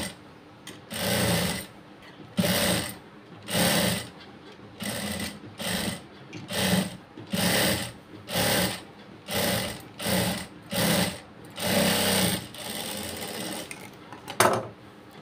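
A sewing machine stitching cloth along a half-inch seam at a shoulder joint, running in about a dozen short rapid bursts with brief pauses between, close and mechanical, each run a fast chattering whir.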